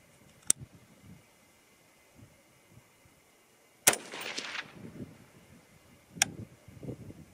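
Three sharp rifle reports from a .223 Rem loaded with Winchester StaBALL Match powder, fired outdoors. The shots are spaced several seconds apart, the middle one rings out longest, and faint background sounds fill the gaps.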